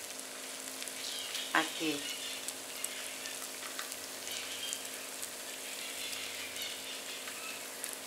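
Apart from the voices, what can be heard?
frying Salvadoran yuca tangles in hot oil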